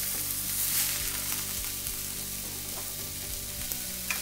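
Beef for Filipino beef asado browning in a hot pan, a dense, steady sizzle and crackle of frying that carries through the whole stretch, close and constant, with faint hums beneath and no voices.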